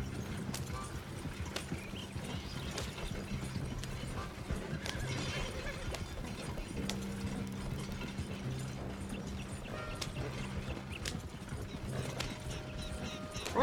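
Horse hooves clip-clop in a steady rhythm with occasional whinnies and neighs in a Red Dead Redemption 2 game scene, heard over a continuous low ambient bed, fairly quiet and without talking.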